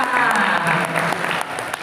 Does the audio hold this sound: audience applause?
yes